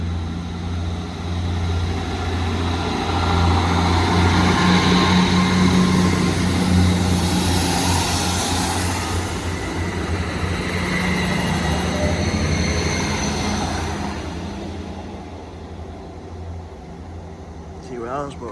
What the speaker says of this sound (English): Train now departing is a double 158